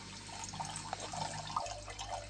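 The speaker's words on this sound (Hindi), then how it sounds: "अब मैं इसमें डालूँगी 1 गिलास पानी।" About a glass of water poured into a hot kadhai while stuffed bitter gourds cook, a faint gurgling, trickling stream with light drips, low in level, steady, with no talk.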